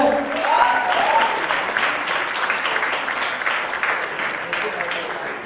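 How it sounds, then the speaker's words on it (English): A crowd applauds at a Bombay Velvet game launch event as the actors take the stage, many hands clapping steadily and loudly for the whole stretch, easing slightly toward the end. "Give them a big round of applause."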